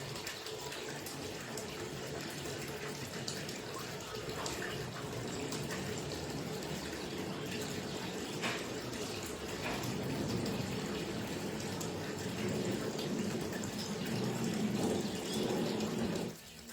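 Water running steadily from a tap for about sixteen seconds, a continuous splashing hiss that swells slightly near the end before cutting off abruptly.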